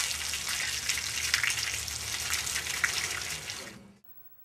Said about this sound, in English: Amanda, go ahead and wash my hands.